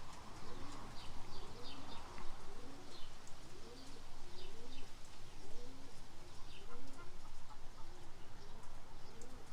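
Pigeons from a trained flock coo in repeated soft rolling phrases outdoors on a windy day, with chirps from other birds scattered above a steady background of wind.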